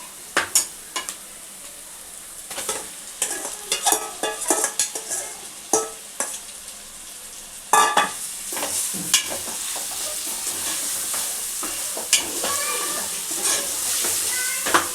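Chicken pieces drop into hot frying masala for a Telangana-style bobbarlu (black-eyed bean) chicken curry, giving a steady broadband sizzle with repeated sharp scrapes and clinks of a spoon stirring in the pan.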